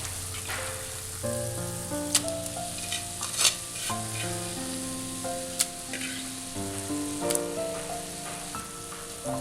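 Chopped squid sizzles and is stirred in hot oil with toasted spice powders, a close, steady frying hiss broken by sharp spoon-on-pan scrapes, with tuneful background music underneath.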